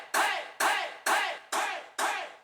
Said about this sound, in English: So I had this hey chant that I found.